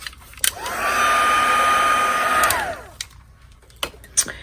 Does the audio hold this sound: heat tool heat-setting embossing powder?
yes